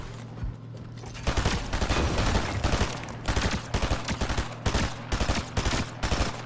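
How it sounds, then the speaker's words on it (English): Gunfire in the video game Fortnite, with rapid bursts of automatic shots and single cracks repeating over several seconds under a low background hum. "Wait, who the hell tried to shoot me?"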